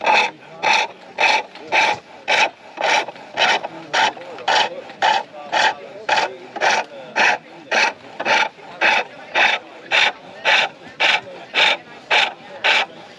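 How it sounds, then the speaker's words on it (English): A chisel scrapes down a piece of wooden stock on a lathe at an outdoor bushcraft gathering, loud close rasping strokes repeating steadily about twice a second with no talk. "just reducing the stock down until there's, you know, the chisel is in contact with the stock all of the time, all the way round."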